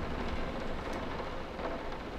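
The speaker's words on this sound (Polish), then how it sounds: "Burza, deszcz." Steady rain pours in the horror video game Layers of Fear, a soft, even hiss of drops on surfaces with a faint low thunder rumble underneath, heard alone and fairly quiet.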